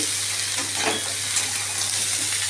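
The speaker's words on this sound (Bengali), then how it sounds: "সাঁতলে নেব ডাটা আর আলুটাকে ভালো করে আমি এখন" Drumstick stems and potatoes sauté in a pan with a steady close sizzle and crackle, and a few soft stirring scrapes come through the constant frying hiss.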